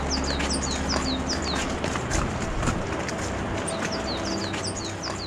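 Horse hooves clip-clop steadily along the muddy Karakoram mountain road, with birds chirping in the background throughout.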